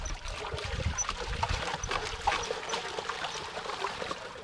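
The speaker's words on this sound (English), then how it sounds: "dynamizing is about creating, there's a lot of water in here at the moment, about creating a vortex" Water being stirred into a vortex for a biodynamic preparation, with a continuous swirling, trickling slosh and small splashes at a steady moderate level.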